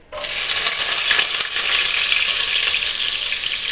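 Garlic, added after mustard seeds have popped, sizzles and crackles steadily in hot oil, a loud, close frying hiss that starts abruptly and carries on without pause.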